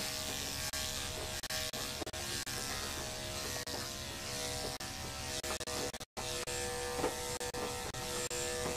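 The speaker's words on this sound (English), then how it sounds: "Just having the clipper do most of the work for me." Electric clippers buzz steadily through a poodle's coat during kennel grooming, close and constant, with faint rasping changes as the blades move, and no talking.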